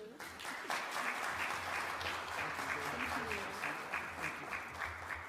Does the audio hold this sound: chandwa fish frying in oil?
no